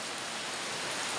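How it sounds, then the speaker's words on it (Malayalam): Steady rain falls outdoors, a dense, even hiss that continues without a break for the whole stretch, close and fairly loud, with no voices over it. "മഴ ഉണ്ട് കേട്ടോ ഇവിടെ, അതാണ് ഈ സൗണ്ട് കേൾക്കുന്നത്"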